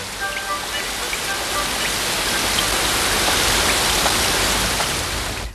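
Steady rain falling, a dense even hiss of drops on a surface lasting throughout at constant loudness, with a few faint brief tones above it.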